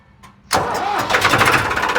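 A Farmtrac tractor's diesel engine cranks and catches at once, settling into a loud, steady chugging rumble close by.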